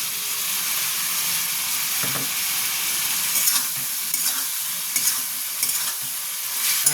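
Fried potatoes are sautéed in a pan with a loud, continuous sizzling hiss and a few light stirring taps toward the end.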